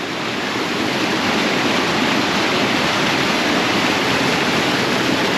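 Rushing water of a hidden waterfall on a Himalayan trek near Bir Billing, Himachal Pradesh, a loud, steady broadband roar filling the whole stretch without any voices.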